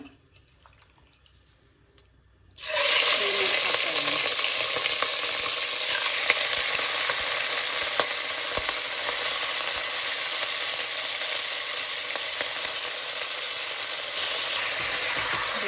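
Loud, steady sizzle of washed chicken pieces frying in oil for chicken sambar starts abruptly after a short quiet moment, then crackles continuously without any talking.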